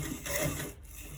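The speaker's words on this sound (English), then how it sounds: "we have first stitched the first one" A sewing machine stitches along a V-neck seam with a brief, close mechanical whir and rub that holds steady for about a second.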